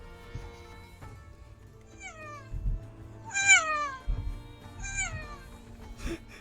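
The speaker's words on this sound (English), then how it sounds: "Cat goes meow." Several short cat meows played back from a phone clip, rising chirpy calls spaced across a few seconds over faint low background noise, no talking.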